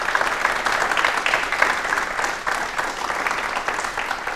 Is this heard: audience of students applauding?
yes